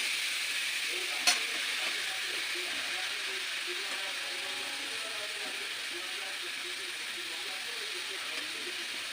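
Freshly grated carrot cooks in a hot pan for carrot halwa, giving a steady, even sizzle and hiss throughout, with a single sharp clink near the start and no one talking.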